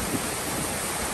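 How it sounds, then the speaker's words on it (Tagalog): Strong wind blows at a farm, a steady, dense roar of broadband rushing noise that buffets the microphone, with no voices. "Sa lakas ng hangin, ayan oh."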